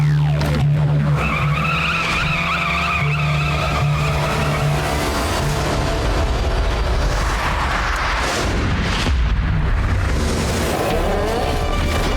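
In an animated Motu Patlu chase, a cartoon car skids to a stop with a loud, drawn-out tire screech over a heavy engine rumble, ending in a burst of crashing noise.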